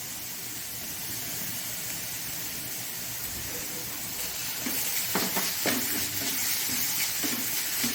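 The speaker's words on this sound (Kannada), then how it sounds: "ಒಂದು ಸಣ್ಣ ಚಮಚದಷ್ಟು ತುಪ್ಪದಲ್ಲಿ ಇದನ್ನು ಫ್ರೈ ಮಾಡ್ಕೊಳ್ಳೋಣ" Red poha fries in a small spoonful of ghee with a constant soft sizzle, and a few scraping stirs near the end bring louder crackles.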